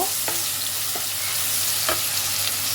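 Spoon stirring and mixing a Bengali bottle gourd curry with katla fish head and spices, a few scraping strokes against the pan over a steady soft sizzle.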